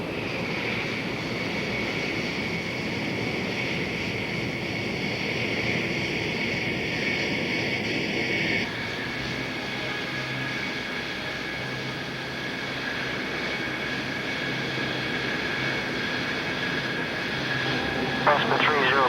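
A Lockheed SR-71 jet taxis with a constant loud engine roar and steady whine, the pitch of the whine shifting partway through, while radio voices talk over it.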